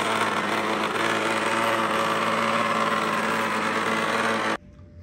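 A loud, steady mechanical whir with a high-pitched motor whine from a faulty Eufy 11s robot vacuum runs continuously, then cuts off abruptly near the end, leaving near silence.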